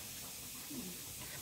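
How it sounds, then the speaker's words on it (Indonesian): A pressure cooker vents steam in a kitchen where beef stew is cooking, giving a continuous broad hiss at low level throughout. "Tapi nggak tahu ini presto aku keluar hawa terus tuh."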